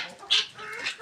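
A guinea fowl gives two short, harsh, high-pitched calls, close by, the first sharper and louder than the second.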